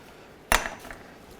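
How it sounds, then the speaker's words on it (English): A single sharp metallic strike from a small hammer tapping a pinch bolt out of the ball joint on the front lower control arm of a 2007-2013 Mitsubishi Outlander, followed by a few fainter ringing knocks, close and otherwise quiet. "you can use a small hammer and just tap that out."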